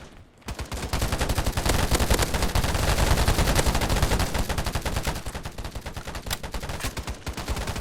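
Rapid video game gunfire crackles loudly and close, with dense, continuous bursts of shots and brief pauses, alone without talk.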